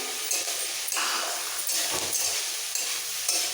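A spoon stirs roasting coconut and spices in a pan for a South Indian egg curry, with steady scraping and light sizzling that come in several short pushes, close and without talk.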